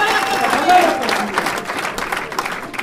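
Applause and cheering from a crowd at a community gathering in Arizona, a busy mix of clapping and voices with a few shouts rising over it, fading slightly as it goes on.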